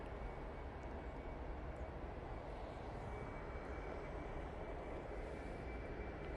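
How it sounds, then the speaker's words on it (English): A Ryanair aircraft at Manchester Airport gives a faint, steady engine rumble at a distance, with a thin high whine running through it and no one talking. "There's Ryanair."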